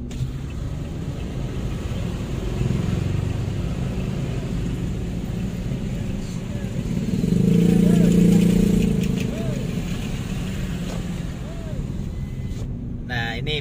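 Car and motorcycle engines idle and rumble in a steady traffic jam at Cibitung market, with one engine swelling louder as it passes, while someone talks over the traffic noise.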